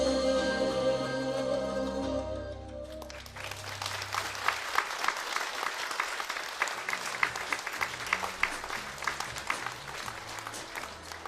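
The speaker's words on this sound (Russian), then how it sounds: "Аплодисменты." Audience applause for an accordionist breaks out as the accordion music fades, a lively burst of many hands clapping that carries on steadily to the end.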